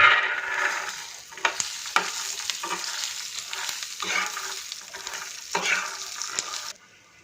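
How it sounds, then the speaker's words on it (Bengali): Peanuts fry in hot oil in a pan and are stirred, giving a continuous close sizzle broken by repeated scraping stirs, with no talking. "এখন আমি এই তেলটার মধ্যেই বাদামগুলো দিয়ে দিব, বাদামগুলো একটু ভাজে নিব।"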